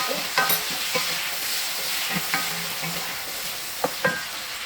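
Tomatoes fry and get stirred in a pan with curry leaves for chicken chukka, continuous sizzle broken by several sharp scraping and tapping stirs.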